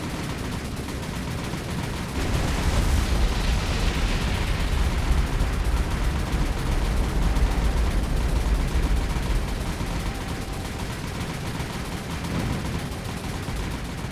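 Lightning aircraft bomb a ship with 2,000-pound bombs in the naval game War on the Sea, heard as a dense, continuous rumble of blasts and heavy firing that swells loudly and then eases off.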